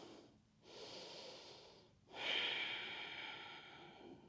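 Slow, audible breaths during a gentle yin yoga flow, a long inhale followed by a stronger exhale, close and alone with no talking.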